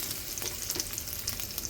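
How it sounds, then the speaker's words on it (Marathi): Grated coconut roasting on a hot iron griddle gives a steady, close crackling sizzle with light stirring scrapes throughout, no voices. "भाजून घेऊया, खोबरं भाजून घेऊया."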